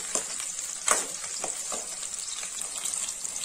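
Onion and garlic frying in groundnut and sesame oil for a curry leaves curry: a steady close sizzle with occasional louder pops and stirring scrapes, no talking.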